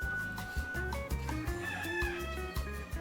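Chickens on a farm cluck steadily in a faint, busy flock chorus, with a rooster crowing among them, heard at a distance over low background noise.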